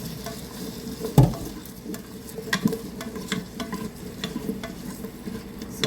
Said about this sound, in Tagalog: Haluin lang na lang na po natin ang ating carrots and potato.